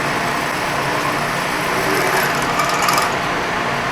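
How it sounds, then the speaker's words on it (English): A drill bores a bolt hole in race car transmission shift linkage, giving a steady, loud, continuous grinding whir with no pauses and no talking. "So now I'm going to drill"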